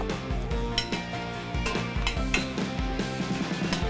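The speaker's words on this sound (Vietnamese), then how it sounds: "Cho ít hành tím để xào hành tím lên để cho nó có vị thơm và bó xôi" Shallots and spinach sautéed in a pan, with repeated clinks and scrapes of a utensil against the metal over a light sizzle, rhythmic and close.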